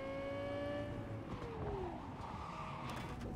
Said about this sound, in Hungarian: Azért az autók hangja azért odabassz egyébként